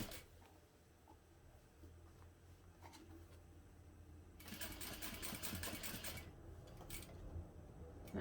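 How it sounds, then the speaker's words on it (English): A sewing machine stitches across the top of a fabric box, faint at first, then a busy rapid mechanical whirring burst for about two seconds before it eases off. "stop with your needle down at the top and stitch back across the top of the box"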